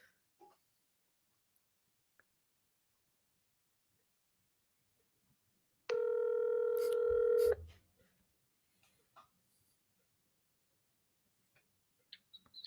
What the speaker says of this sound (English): You should call Darrell on speakerphone